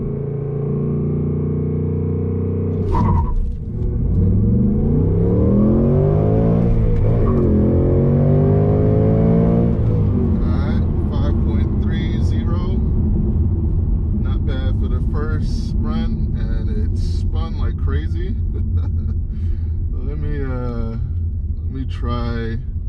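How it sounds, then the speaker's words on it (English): A manual S650 Mustang GT launches hard in a 0 to 60 run, its engine rumbling loudly and rising in pitch through the gears, climbing steadily and held under ongoing talk. "we're going to do our first real world 0 to 60 test in our S650 Mustang GT"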